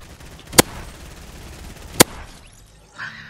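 Two sharp, loud gunshots ring out in Fortnite about a second and a half apart over low ambient game noise, followed by a softer rustle at the end.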